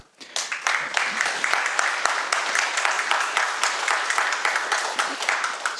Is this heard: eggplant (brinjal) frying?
no